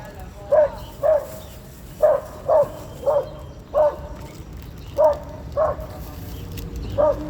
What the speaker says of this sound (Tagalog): Ah, yung aso. Asong maitim.